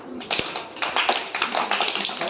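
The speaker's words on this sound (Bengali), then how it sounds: "একটা হাততালি, সবাই" A group of people clap their hands in scattered, uneven claps, fairly close and of moderate loudness, with faint voices in the background.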